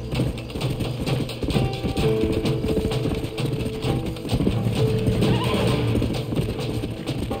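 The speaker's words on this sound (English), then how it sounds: "My horse is dying." A horse in the Red Dead Redemption video game, with hoofbeats and a whinny mixed into a dense, steady game soundscape of mechanical noise, fairly loud and continuous.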